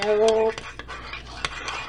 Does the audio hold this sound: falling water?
no